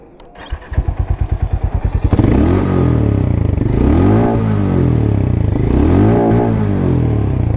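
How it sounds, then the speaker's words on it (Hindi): A Harley-Davidson X440 motorcycle starts with rapid cranking clatter, then settles into a loud, close, thumping exhaust idle with a rhythmic, slightly uneven pulse and a few gentle rises in revs. "अब मैं हार्ले का एग्जॉस्ट आपको एक बार सुना देता हूँ।"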